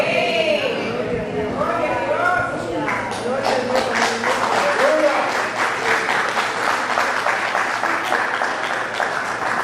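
A church congregation applauds after a spoken psalm prayer: dense, sustained clapping from many hands fills the room, rising out of a voice at the start and continuing loud and close to the end.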